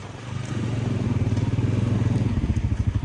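A Honda motorcycle pulling away in first gear, its engine revving loud and close with a steady pulsing exhaust throb that builds as it accelerates.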